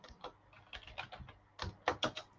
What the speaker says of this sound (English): So just type label in there.